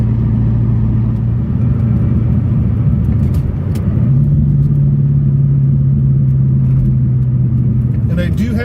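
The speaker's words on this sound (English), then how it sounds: "Allen stainless steel muffler deletes, so that's what you can hear kind of rumbling a little bit" A 1994 Chevrolet Corvette with Allen stainless steel muffler deletes, heard from inside the cabin with windows up as a steady low exhaust rumble that shifts up slightly midway, with someone talking over it.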